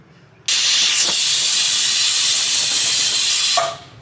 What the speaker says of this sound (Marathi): कुकरची लास्ट शिट्टी आहे